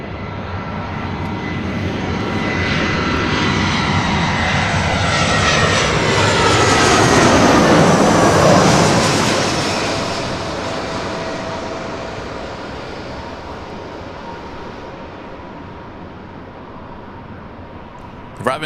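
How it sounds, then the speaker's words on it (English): Delta Airlines Airbus A319 jet arriving at LAX, its engine roar swelling as it passes overhead, peaking mid-pass with a falling whine, then fading into the distance; voices talk faintly underneath. "Delta Airlines flight 848 on this A319."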